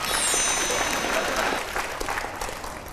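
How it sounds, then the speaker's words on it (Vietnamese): A studio audience on a Vietnamese dating show applauds, loud dense clapping at first that gradually thins and softens over three seconds, with faint voices mixed in. "Một tràng pháo tay cho anh Quyền Linh."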